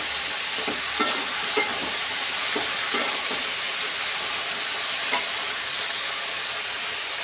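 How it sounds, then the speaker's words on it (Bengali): Okra frying in a pan on a home stove gives a steady, dense sizzle throughout, with a few soft clicks of stirring now and then, close and even. "ঢেঁড়স ভাজা হচ্ছে,"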